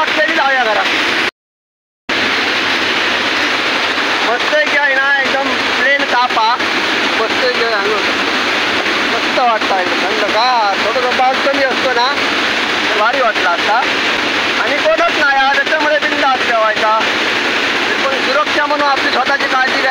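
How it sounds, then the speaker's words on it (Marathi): Waterfall in the Konkan hills roars as a loud, continuous wash of falling water, with someone talking over it in several stretches and one brief dropout near the start. "आणि धबधबा कसला होतो बघा"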